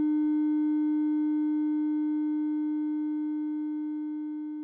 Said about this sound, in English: I've got a sine wave coming out of the ONA oscillator going into the audio input of